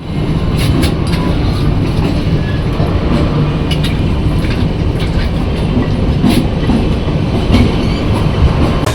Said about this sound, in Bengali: তো ট্রেন চলে এলো একদম কারেক্ট টাইমে।